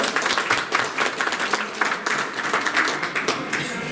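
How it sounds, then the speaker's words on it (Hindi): An audience at an office retirement honour ceremony claps to welcome an arriving guest, a steady burst of applause from a crowd close by. "जोरदार ताली से स्वागत किया जाए।"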